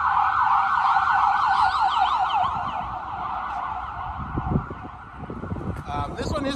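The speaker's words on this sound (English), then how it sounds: "Wait till this ambulance goes by." An ambulance siren wails loudly as it passes nearby on a street, its rising and falling tone steady for most of the pass before fading, with traffic rumble and brief knocks underneath.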